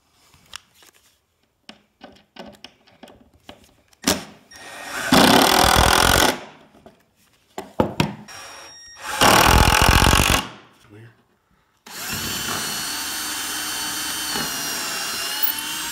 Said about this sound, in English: what I'll do is flip this over and run some screws down through this way.